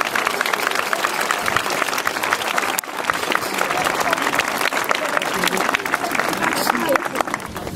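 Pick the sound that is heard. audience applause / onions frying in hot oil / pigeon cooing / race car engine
audience applause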